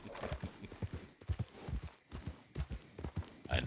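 Horse hooves clip-clop steadily in Red Dead Redemption 2 online, a rhythmic series of close, clear hoofbeats from a walking or trotting horse with faint background ambience.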